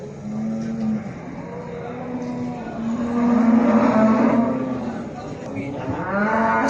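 Cattle low repeatedly at the Maştağa livestock bazaar, with long moos rising and falling over a constant crowded market din and a passing vehicle, loud and close.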